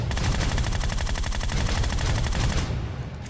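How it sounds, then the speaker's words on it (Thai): Rapid automatic gunfire in PUBG Mobile, a dense continuous burst of loud close shots for about two and a half seconds, then cutting off. "ใครยิงมา"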